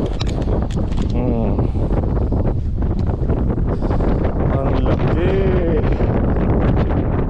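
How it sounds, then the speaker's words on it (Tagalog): Strong wind buffets the microphone with a constant loud roar, while people talk over it. "Ay, malakas kasi yung hangin"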